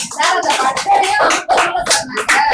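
Hands clapping in a quick irregular series of sharp claps, close and fairly loud, with a voice talking between them.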